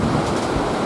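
Strong wind buffets the microphone by the sea at Jardines de Santa Clotilde in Spain, a dense roaring rush with surf blended in, constant and loud throughout.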